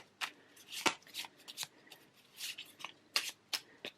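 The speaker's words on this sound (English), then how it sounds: "Let's shuffle a little bit." A deck of cards being shuffled close up in a few quick riffling bursts with short pauses between them, heard alone with no talking.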